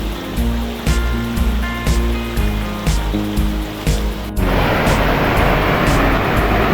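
Icy cold, clear water of Jarogo waterfall in Swat, Pakistan, roaring as a loud, steady broadband rush that starts abruptly partway through, after a stretch of repeating tonal sound.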